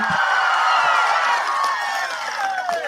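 Rally crowd clapping loudly and cheering in response to a politician, a dense, continuous burst of applause with some whoops, fairly loud and close, briefly mixed with a voice.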